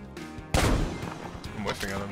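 Gunshots in a survival video game: one loud, sharp shot lands after a short lull, followed by scattered fainter reports and game noise, with speech partly overlapping.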